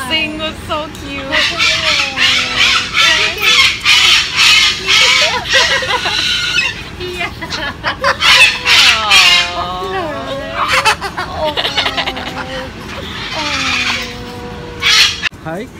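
An umbrella cockatoo at a bird rescue vocalizes in a long run of warbling, squawking calls that rise and fall as if attempting a song, loud and close, with human talk overlapping.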